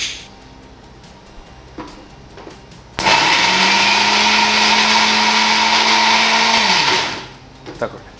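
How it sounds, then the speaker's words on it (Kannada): A mixer grinder dry-grinds spices into a coarse powder, a loud steady whirring roar that starts abruptly, runs about four seconds and winds down, with quiet handling clicks before and after. "ಸ್ವಲ್ಪ ಜಸ್ಟ್ ಗ್ರೈಂಡ್ ಮಾಡಿದರೆ ಸಾಕು"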